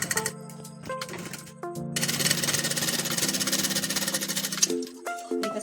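A sewing machine stitches a short seam on fabric for a small child's half pants. It runs as one steady, close mechanical whir for about three seconds, with quieter handling sounds and brief pauses before and after.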